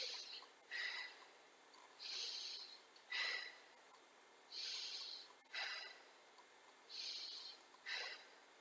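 Rhythmic breathing during an exercise class, about eight separate breath bursts in alternating inhale and exhale pairs, close and moderately loud, with no talking.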